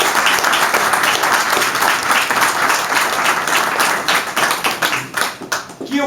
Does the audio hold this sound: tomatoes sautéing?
no